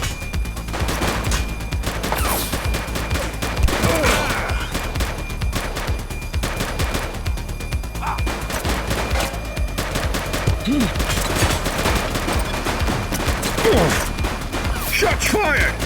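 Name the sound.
gunfire in a shootout from the video game The Precinct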